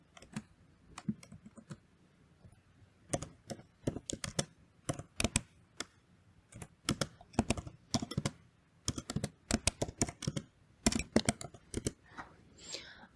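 Typing on a computer keyboard while writing Python code, crisp close keystrokes in uneven clusters and bursts with short pauses, fairly quiet and alone.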